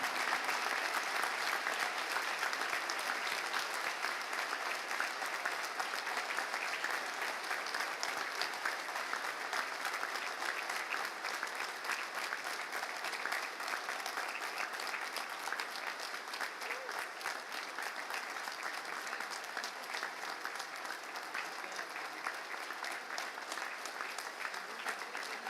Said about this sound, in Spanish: Fuerte el aplauso para despedir a las banderas de ceremonia.